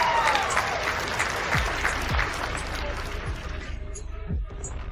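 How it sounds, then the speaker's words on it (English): Applause from a small audience clapping steadily, moderately loud and fairly close, thinning out toward the end with a few scattered claps and a bit of background noise. "Give her a round of applause, please, Annie."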